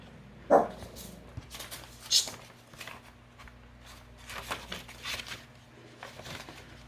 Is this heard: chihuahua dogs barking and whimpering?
yes